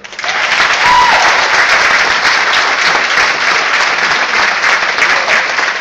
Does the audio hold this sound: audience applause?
yes